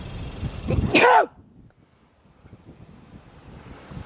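A single loud sneeze bursts out in a wooded outdoor spot where pigs root around, sharp and close, followed by quiet wind and faint rustling.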